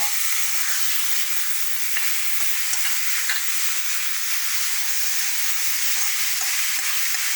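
Banana flower paste frying in a mustard seed and green chilli tempering, a steady broad sizzle with scattered stirring scrapes and small pops running throughout, close and continuous with no talk.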